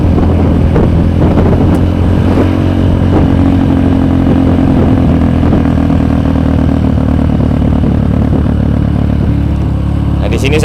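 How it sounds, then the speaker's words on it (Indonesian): A trail motorcycle rides along a wide, fairly flat road, its engine droning loud and close with a steady, continuous rumble. Wind and road noise run beneath it throughout. "Nah, di sini saya pakai motor trail ya. Jadi mohon maaf kalau berisik."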